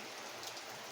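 Heavy rain pours down in a steady, loud, dense hiss with no pauses and no talking.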